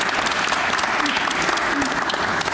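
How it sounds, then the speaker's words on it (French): Audience at an education and digital technology summit opening event claps in a dense, continuous burst, loud and close, with some voices mixed in. "Oui, je pense qu'on peut l'applaudir."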